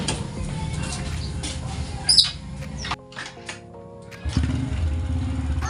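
A Honda Wave S 125 motorcycle engine idles steadily after repair, with the exhaust refitted. The engine is close up with a brief dip in the middle, then the running resumes.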